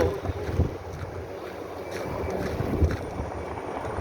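Strong wind buffets the microphone at a harbor on a rough coastal day, giving a continuous loud rushing roar with gusty thumps and no speech.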